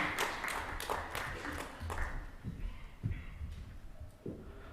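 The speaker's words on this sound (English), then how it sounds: "with a huge round of applause" Audience clapping at a national watershed conference welcome, a modest, fairly quiet round of applause with scattered claps that thin out, and a voice faintly audible underneath.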